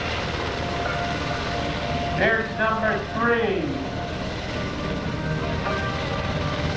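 A UH-60 Black Hawk helicopter hovers at an airshow during a rappelling demonstration, giving a loud continuous rotor and engine roar while someone narrates over it.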